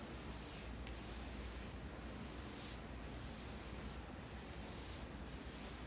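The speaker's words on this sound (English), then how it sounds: "Whenever you're wiping flat paint, you'll know if it's a quality paint after the wiping dries." A microfiber cloth wipes across a wall of flat paint with a faint, steady rubbing hiss that runs on without a break.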